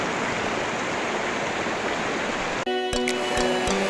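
Diring river near the Indo-Bhutan border rushes in a steady, loud broadband roar of flowing water throughout, with a brief handling knock and faint tonal clatter near the end.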